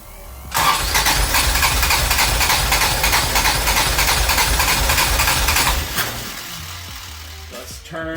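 A Toyota AE86 with a 4A-GE engine on Keihin FCR41 carburetors runs loud and close, a steady rasping roar for about five seconds that then drops to a quieter, rougher idle.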